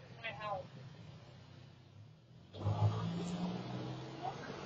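A BMW car spinning donuts near a house, its engine quiet at first and then surging into loud, sustained revving, while people talk excitedly in the background.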